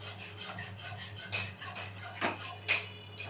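Yogurt stirred into spices in a pan over low heat for a pointed gourd curry: soft, quiet scraping strokes of a spatula against the pan, a few distinct rasps over a low steady hum.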